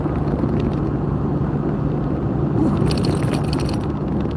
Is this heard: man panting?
no